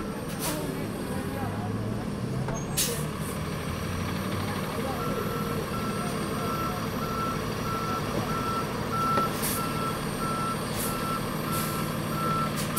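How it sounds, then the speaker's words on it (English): A truck reverses on a busy Chinatown street in New York City in winter, its evenly spaced backup beeps repeating over a low engine rumble, steady traffic and faint voices. "I'm not sure if this truck driver is going to have enough clearance to turn onto Mulberry."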